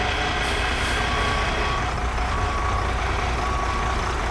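A Class B truck backs up slowly during CDL skills training, its engine a steady, dense rumble with faint high tonal whines running through the noise.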